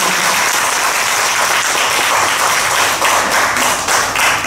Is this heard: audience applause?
yes